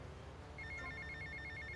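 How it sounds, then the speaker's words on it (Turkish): A phone rings in the GTA video game, a repeating electronic trill that starts partway through and carries on steadily over a low background hum of game ambience. "telefon çalmadı dedim çaldı"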